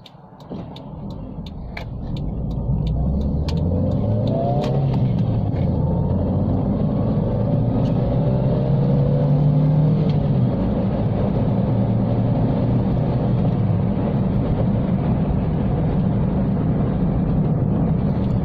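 Toyota Starlet E90 engine running, heard from inside the cabin as a steady low drone with a rising hum that builds over the first seconds and then holds even and continuous.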